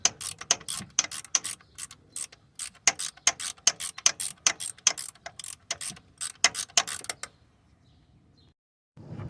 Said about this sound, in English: I was able to get a socket on it and get it off.